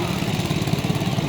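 A vintage engine, the New Zealand engine, leads a grand parade at Lake Goldsmith with a low, chugging, steady throb, close and even over the short stretch.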